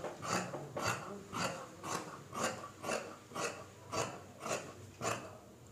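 Scissors cut through trouser fabric along a chalk-marked line while a gent's pant is being tailored, giving about ten steady, evenly spaced rasping snips, close and clear, with no talking.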